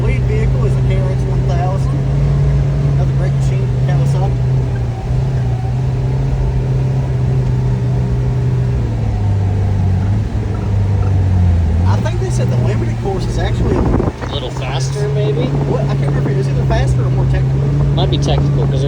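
A Kawasaki KRX 1000 side-by-side drives on an off-road demo ride with deep ruts, its engine a steady, loud drone that shifts pitch as it changes speed. Voices talk over it, and rattles and bumps are heard near the end.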